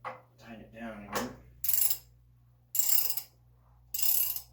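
Ratchet wrench tightening the anode rod on a water heater, three bursts of rapid ratcheting clicks at close range, each lasting about half a second, coming after some soft handling noise.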